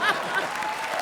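A short burst of studio audience applause on a comedy show stage for the couple Rajeev and Shweta, dense clapping with voices and a bright tone riding over it.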